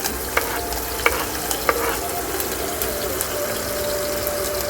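Green chilies frying in hot oil with cumin and mustard seeds give a steady, dense sizzle. A few sharp pops and spoon scrapes break through near the start, and no one speaks.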